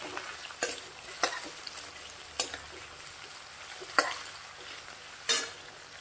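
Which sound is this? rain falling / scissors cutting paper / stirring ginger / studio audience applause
stirring ginger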